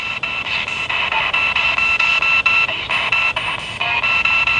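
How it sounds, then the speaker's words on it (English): A ghost-hunting spirit box sweeps through radio static in a rapid pulsing rhythm, chopping hiss and tonal bleeps into short bursts that repeat steadily and close by, with no clear voices. "I'm going to do another spirit box."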